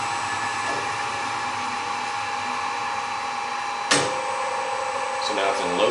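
A 1961 Hardinge chucker lathe, driven through a VFD, runs in low gear with a continuous, even motor whine close by, a voice speaking over it and a sharp click partway through.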